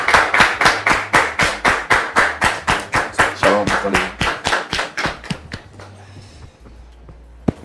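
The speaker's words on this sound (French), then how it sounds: "On le reçoit, s'il vous plaît, avec vos applaudissements." An audience claps in a steady, rhythmic unison beat to welcome a guest, loud and close at first, then trailing off into scattered claps and a quiet room; a voice speaks briefly.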